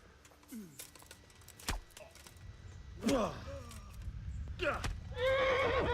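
A horse in Kingdom Come: Deliverance whinnies in short bursts among hoof clops and combat noises, with a louder neigh near the end over a low background rumble.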